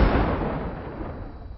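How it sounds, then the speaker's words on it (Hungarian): In a Hungarian radio play, a single explosion effect bursts loudly and then fades into a rumbling, hissing tail over a second and a half, with no voices. "Szlobó felrobban."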